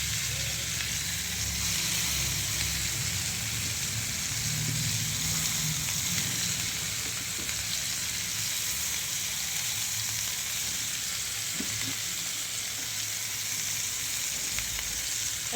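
Pea fritters sizzle steadily in hot oil in a frying pan, a dense, even crackling hiss heard up close throughout.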